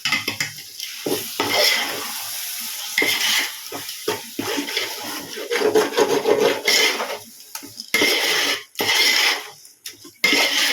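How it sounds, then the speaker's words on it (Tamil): Biryani ingredients with rock salt being stirred and mixed in a pot, a spoon scraping and clinking against the metal in irregular strokes over a soft sizzle, close and fairly loud. "நான் இப்போ இது எல்லாமே ஒன்றாகிற அளவுக்கு நம்ம மிக்ஸ் பண்ணி விட்டுடலாம்"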